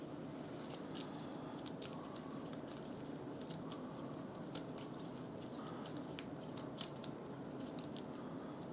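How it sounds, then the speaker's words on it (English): Cards shuffled for a tabletop board game, a steady papery riffling and patter running throughout at moderate level, with no voices. "And then this deck will be shuffled."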